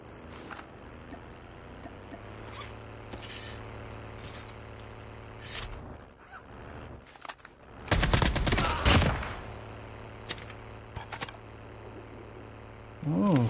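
Bursts of M4 LMG machine gun fire in the mobile shooter Call of Duty Mobile, with sparse distant shots early and a loud sustained burst midway, plus another burst at the end, over a low engine-like hum.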